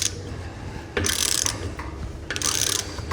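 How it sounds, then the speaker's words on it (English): A socket wrench ratchets anti-clockwise to undo the base nut of a level probe, giving two bursts of close, dry clicking with a brief pause between them. "pop the socket on there and then simply undo anti-clockwise"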